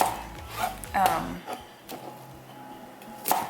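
Knife chopping vegetables for scrambled eggs on a cutting board, a few sharp irregular knocks close to the microphone with quiet pauses between.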